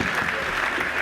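Audience applause for children at a project inauguration ceremony in Kananga, DR Congo, a steady dense wash of clapping throughout the short moment.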